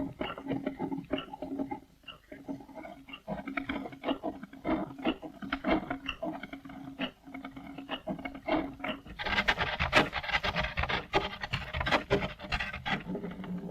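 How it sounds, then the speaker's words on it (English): Turning chisels scrape and rasp against a rotating oak mill axle in steady repeated strokes, dry wooden scratching that grows louder and brighter toward the end, with no talk. "the 2 men guide the turning chisels along the rotating axle until it's completely smooth"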